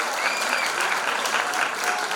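Steady, dense applause from a concert audience at a memorial concert in Drenas, continuing evenly throughout without pause.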